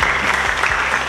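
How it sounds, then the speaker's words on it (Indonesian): A short burst of dense clapping from a crowd, steady and fairly loud throughout. "Tepuk tangan untuk Anda"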